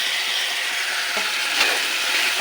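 Ginger, tomato, turmeric, salt and ground spices sizzle and hiss in hot oil for a boal fish curry, a steady close frying sound with faint stirring scrapes.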